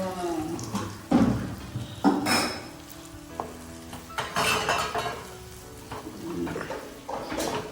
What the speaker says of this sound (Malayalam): നമുക്ക് നല്ലോണം ഇളക്കി കൊടുക്കാം